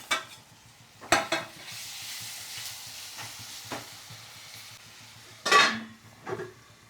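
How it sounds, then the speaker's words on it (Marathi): Onion frying in oil in a pan for a Goan green mussel dish, a low steady sizzle broken by a few sharp clinks and scrapes of a spoon against the pan, close by with no talk. "मस्त तेलामध्ये फ्राय करायचे आता."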